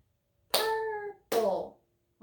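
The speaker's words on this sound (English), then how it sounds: "How many claps was that?" Two claps from a teacher's hands beat out the syllables of a word in a children's lesson, each clap sharp and near, with a voiced syllable ringing along with it.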